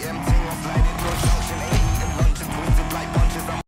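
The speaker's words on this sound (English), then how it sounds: "they're just playing sound of a Mustang over this, and it's not synchronized with the actual gameplay." In the racing video game Need for Speed Unbound, a Ford Mustang's engine roars in repeated surges, revving up and dropping in a regular rhythm about twice a second, loud and close with tire squeal mixed in.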